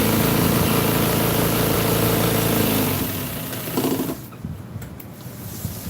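A sewing machine stitching a seat cover for a 1966 Chevy truck runs in a loud, steady mechanical whir for about three seconds, then slows and drops to quieter, uneven stitching sounds.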